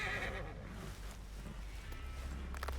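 A horse neighs and whinnies amid a dense, loud wash of background noise, with a brief rustle near the end.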